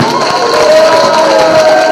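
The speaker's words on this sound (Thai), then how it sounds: "ขอเสียงปรบมือขอบคุณพี่น้องประชาชนที่เคารพทีกทักอีกครั้งหนึ่งครับ" A crowd at a political rally cheers and applauds in a loud, steady wash of noise, with shouting voices blending into continuous clapping close by.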